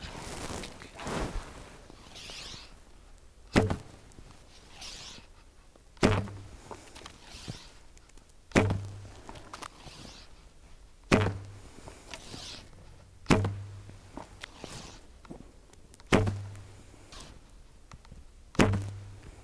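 Arrows from a new 40-pound recurve bow striking a close target, about seven sharp thuds spaced a few seconds apart, each following quieter handling noise, with no talk.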